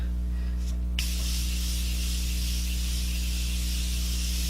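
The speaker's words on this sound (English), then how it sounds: "And spray my face again." A short hiss of face mist spray bursts out once, then a steady airy hiss lingers over a constant low electrical hum.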